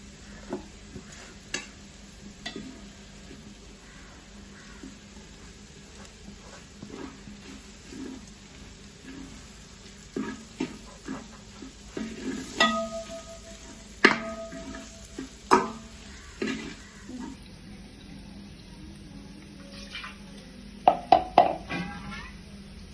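Masala spices being stirred and fried in a pot for homemade dum biryani: soft sizzling under intermittent scraping and clinks of a spoon against the pan, growing busier toward the end.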